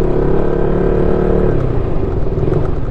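A motor vehicle engine runs at a steady, loud drone throughout, a continuous low rumble with no clear revving or change in pace and no talk over it.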